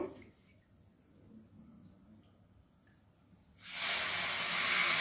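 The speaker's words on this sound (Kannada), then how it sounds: "ನಾನು 2 ಕಪ್ ನೀರು ಹಾಕ್ಕೊತಾ ಇದ್ದೀನಿ." Water is poured onto hot semolina (rava) with a little moong dal in a pan, giving a quiet lull and then a sudden loud, steady hissing sizzle near the end.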